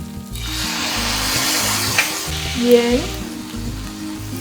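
Chili bean paste, miso and soy sauce stir-frying in a pan for vegan spicy miso ramen, a steady close sizzle with scraping stirs and a brief word spoken over it.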